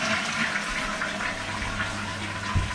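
A toilet in a newly renovated bathroom flushes, a loud rushing gush of water that swirls and drains steadily for a few seconds, close to the listener.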